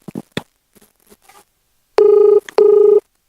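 A telephone rings with two loud, even electronic trills, each about half a second long, after a few faint knocks and rustles.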